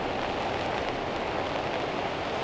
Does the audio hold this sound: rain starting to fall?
yes